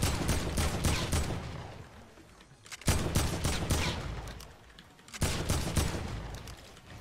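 Bursts of AK rifle fire in the video game Fortnite: three loud, rapid volleys of close gunshots, each trailing off before the next starts, with no talk over them.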